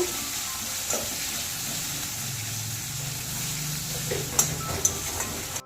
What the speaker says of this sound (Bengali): পেঁয়াজটাকে আমি একটু হালকা করে ভেজে নেব